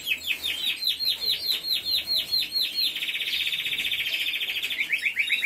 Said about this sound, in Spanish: Pajarillo ese de arriba como canta el verde.